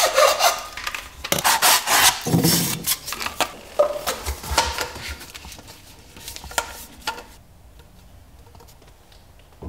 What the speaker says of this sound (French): Découpe le tuyau de raccordement à la bonne longueur.